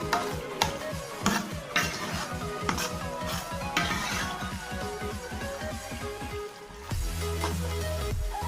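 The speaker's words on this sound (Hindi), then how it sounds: "और इसको अब अच्छी तरीके से हिला लेंगे और इसको भूनेंगे भी।" A spoon stirs spinach and mutton frying in oil in a pot, with repeated scraping strokes and metallic clinks over a steady background sizzle, close and fairly loud.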